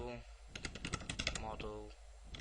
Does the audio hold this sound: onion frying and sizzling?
no